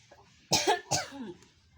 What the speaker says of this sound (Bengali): এখন আমার মরিচের ডাক মানে কাশি চলে আসছে